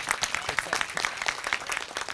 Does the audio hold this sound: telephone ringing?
no